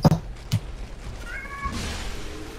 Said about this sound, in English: Oh, cat noises.